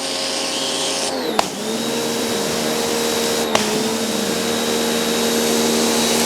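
Parkside pressure washer from Lidl running with its turbo rotating nozzle on paving slabs, a loud continuous motor whine and spray hiss, close and steady, with two brief clicks as the trigger or pump cycles.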